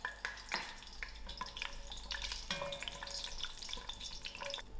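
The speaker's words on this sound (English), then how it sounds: "I'm going to fry out my remaining 6 cashew nuts, which I'm going to use to garnish." Cashew nuts fry in a pan, giving a steady close sizzle and crackle with a few brief clinks and stirring sounds and no talking.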